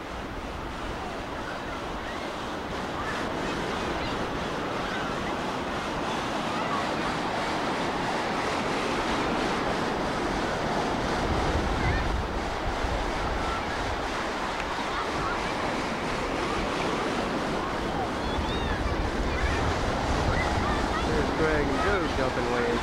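Ocean waves break and wash continuously onto a beach, a steady broadband roar with wind noise buffeting the microphone throughout.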